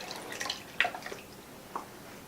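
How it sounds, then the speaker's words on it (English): Yogurt and milk mixture poured into a large batch of homemade yogurt, soft close dripping and splashing with a few distinct liquid plops over quiet background. "go ahead and pour it into your big batch of yogurt."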